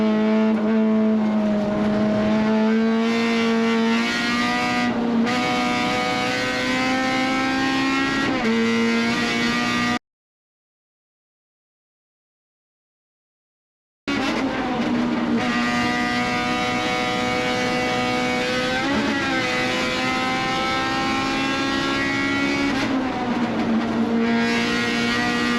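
Race cars, among them a number 66 Corvette, roar around Lime Rock in a loud, continuous engine drone with rising and falling revs, broken by a few seconds of total silence midway before the racing noise resumes.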